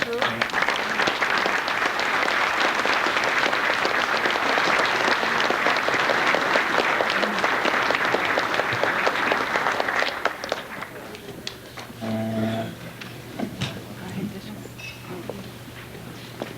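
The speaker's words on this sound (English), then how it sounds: "how about a nice round of applause for Ollie Silva's family" Audience applause at a 1998 racing hall of fame ceremony: a sustained, loud wash of clapping from a crowd for about ten seconds, then tapering off as a voice speaks over the room.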